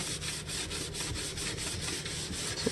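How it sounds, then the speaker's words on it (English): Blue non-scratch pad scrubbing a stainless steel sink in a janitorial cleaning job, close rhythmic back-and-forth rubbing strokes at a quick, even pace with no talk. "use a blue non-scratch pad. And I'm going to just go through and just scrub it out real good."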